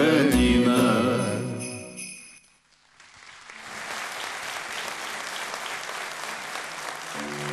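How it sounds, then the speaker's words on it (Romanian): Audience applause fills the hall after a carol is sung at a Romanian Christmas carol concert in Medias, rising from the fading music into a steady, dense clapping that carries on to the end. "Vă mulțumesc, vă mulțumesc tare mult pentru aplauze."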